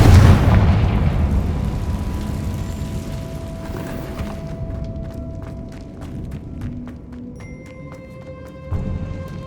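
A Confringo explosion spell from the game Hogwarts Legacy lands as a loud, booming burst that decays into a long rumbling tail with crackling debris, followed by lighter magical tones and a small thump near the end.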